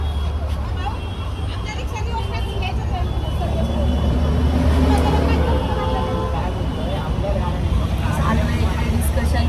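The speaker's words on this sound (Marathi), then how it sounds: "आवाज आला ना खूप सारे ट्रॅफिक आहे" Heavy road traffic on the way to Chaitya Bhoomi in Dadar, a dense steady rumble of cars, buses and rickshaws close by, with a babble of voices and speech running over it throughout.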